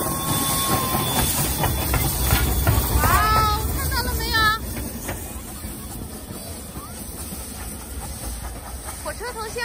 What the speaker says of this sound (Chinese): 火车头来了，快看！